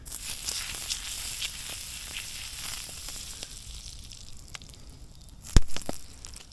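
French toast sizzles in butter in a pan over an outdoor fire, a steady hiss and crackle that quietens midway before a sharp clatter near the end.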